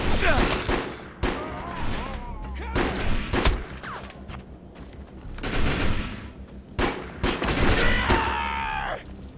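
Single gunshots from a reloading gun in the shooter video game Defiance ring out in separate bursts between pauses, with a voice and game effects in the background.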